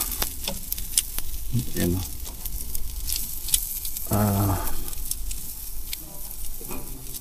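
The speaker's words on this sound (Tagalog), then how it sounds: "Itong chicken naka-marinate na siya so lutuin na lang siya." Marinated chicken sizzles in a hot pan with a steady crackling hiss throughout, close and fairly loud, while a person talks briefly over it.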